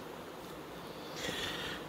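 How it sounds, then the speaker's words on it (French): Honeybees droning in an open hive during a colony inspection, a steady low buzz filling the whole stretch at moderate level, swelling a little toward the end, with no talk over it. "Vombrissement caractéristique là."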